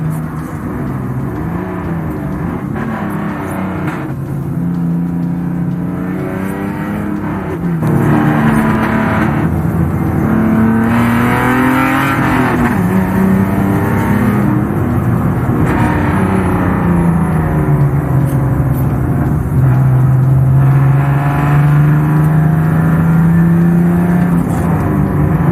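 Goldie, a classic car, pulls away on its first drive, its engine note loud and near throughout, steady with gear-change dips and a rising rev partway through, with no voices.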